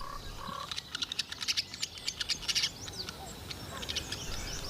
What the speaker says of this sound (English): the morning birds were singing not just to hear their own voices